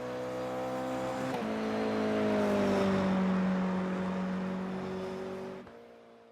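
Engine note of a race car in the Assetto Corsa Competizione sim on a lap of Laguna Seca, a loud sustained droning whine that rises and shifts pitch through gear changes, then drops abruptly near the end.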